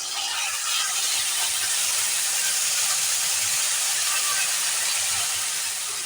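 Spice paste goes into potatoes frying in a pan, setting off a loud, even hissing sizzle that holds for several seconds with no one talking.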